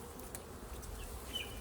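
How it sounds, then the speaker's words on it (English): Honey bees hum around an open hive on a windy day, a faint steady buzz over low wind rumble, with brief higher whines of single bees passing close. "None of the bees from my hives are particularly happy today"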